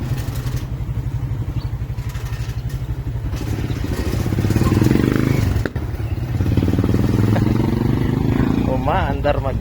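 A Honda Click 125i scooter engine idles and runs on its own with the throttle untouched, giving a steady, close, rhythmic putter with some clatter while someone talks over it.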